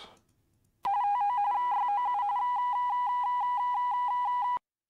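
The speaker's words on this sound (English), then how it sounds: "Makes Morse code noises." Short electronic beeps triggered by clicked buttons in a Noah's Ark game, pulsing in a Morse-like on-off pattern at a steady pitch for several seconds, loud and clear with no talk, then cutting off abruptly.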